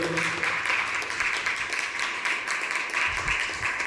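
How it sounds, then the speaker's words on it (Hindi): Enthusiastic audience clapping at a motivational seminar, a steady, dense patter of many hands that holds for several seconds with slight swells, heard from within the room. "जोरदार ताली होनी चाहिए"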